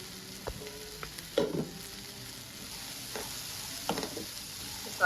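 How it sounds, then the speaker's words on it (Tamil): Coconut and chopped coriander stirred into mango sundal in a pan, giving a few soft scraping and clinking spoon strokes over a faint steady sizzle, with no talking. "அப்படியே லைட்டாக மிக்ஸ் பண்ணி விட்டிங்கன்னா"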